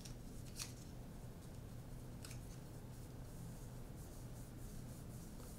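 Scissors cut through SpiderTech kinesiology tape, giving a couple of quick, faint snips over a soft, close rustle of handled tape, quiet and without speech.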